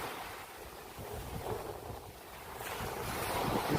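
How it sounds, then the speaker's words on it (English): Ocean surf rolls and washes onto a beach in steady, close-up surges, with heavy wind buffeting the microphone throughout and no talking. "The beach."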